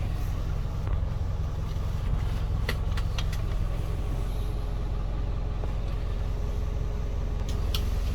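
A car engine drones steadily while driving, a constant low rumble filling the whole stretch with a few faint higher clicks and taps on top, no talk.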